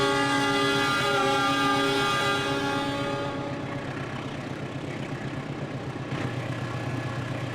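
Train running in the Trainz Simulator video game on an Indonesian route, a loud sustained horn blast over rumbling engine noise, then the horn stops and the steady mechanical rumble of the rolling train carries on.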